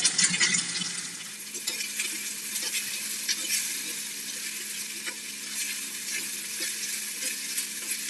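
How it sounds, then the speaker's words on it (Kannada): Chopped onion and tomato fry in a pan, a steady, close hiss of sizzling oil with a brief scrape of stirring at the start. "ಚೆನ್ನಾಗಿ ಹುರಿಬೇಕು ಈರುಳ್ಳಿ ಮತ್ತೆ ಟೊಮೆಟೊ ಎರಡು ಮೆತ್ತಗಾಗೋವರೆಗೂ ಫ್ರೈ ಮಾಡಬೇಕು"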